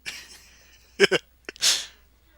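A single sharp sneeze bursts out after a quick gasping intake, preceded by faint breathy sounds and followed by a short hiss of air.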